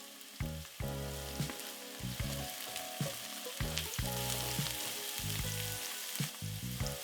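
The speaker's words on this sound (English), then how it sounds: "Once the onions are slightly sweat, add garlic, ginger, cilantro stems" Onions, garlic and ginger sauté in a pan with a soft, steady sizzle beneath clanking utensil knocks and scraping, fairly quiet and close, with no voices.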